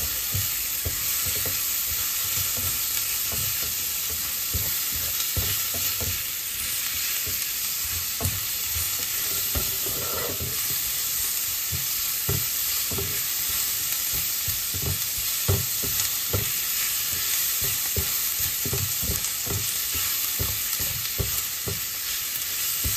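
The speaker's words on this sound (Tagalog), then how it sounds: "Kailangan lutuin natin yung kamatis sa yung maluto talaga siya." Tomatoes stirred and sautéed with garlic for pinakbet with squash: a loud, continuous frying sizzle runs throughout, broken by frequent close scrapes and clinks of a spoon against the pan.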